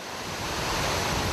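Hurricane Katrina floodwater and waves pouring over New Orleans levees during a Category 5 storm, a dense, steady roar of rushing water and wind that swells slightly louder and continues without pause.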